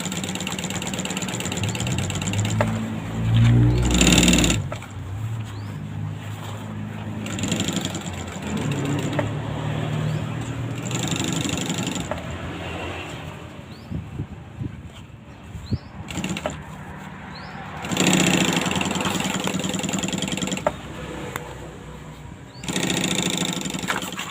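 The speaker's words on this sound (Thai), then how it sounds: "ถ้าเป็นรองเท้าเย็บเข้ามุมปลายก่อนนะคะให้มุมโค้งตามสันลงหัวรองเท้านะคะ" Sewing machine stitching a curved seam on a shoe, running steadily and loudly in several bursts with brief pauses between runs, close up, no voices.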